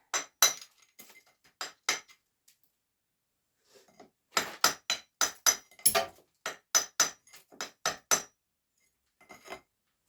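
A hand chisel that is not a pointing chisel strikes stone in sharp, ringing metallic clinks, arriving in irregular bursts of single and rapid strikes separated by short silences, close and fairly loud.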